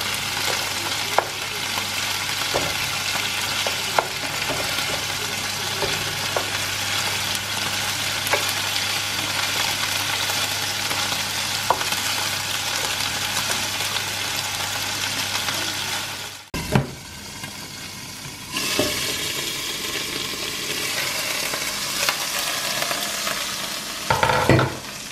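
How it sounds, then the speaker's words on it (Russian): Chicken meat fries in a pan for Turkish-style pilaf, giving a steady close sizzle with occasional stirring clinks, then a brief clatter and a softer, renewed sizzle toward the end; no talking. "С одной стороны куриное мясо уже зажарилось."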